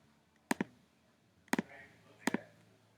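A computer mouse double-clicked three times at a desk, each quick pair of sharp close clicks spaced about a second apart, with quiet room tone between them.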